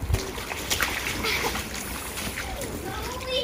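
A children's water table runs with steady trickling and splashing water outdoors, close by and continuous, with children's voices and chatter mixed in over the sloshing.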